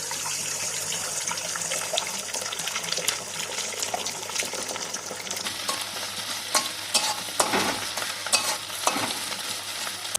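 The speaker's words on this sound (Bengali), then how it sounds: "আমরা ডিম ভেজে নেব, তার জন্য কড়াইতে অল্প কিছুটা তেল দিলাম, দিয়ে 3টে ডিম ফেটে নিয়ে দিয়ে দিলাম।" Three beaten eggs fry in a little oil in a wok, giving a steady bright sizzle with occasional sharp crackles and stirring scrapes, close and continuous without talk.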